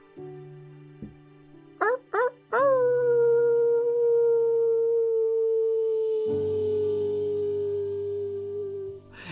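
A group of people imitate a wolf pack, with a few short rising yelps giving way to a long sustained howl that others join, layered voices holding a steady drawn-out tone with echo.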